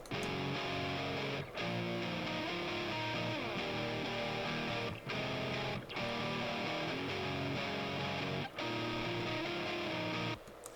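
Heavily distorted electric guitar playing a dense, chugging riff with brief pauses, loud and upfront with no voices.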